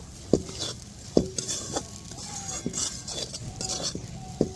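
Homemade breadcrumbs being stirred into a masala in a pan for Bengali street-style Moglai paratha, with sharp spoon scrapes and taps against the pan over a faint background hiss.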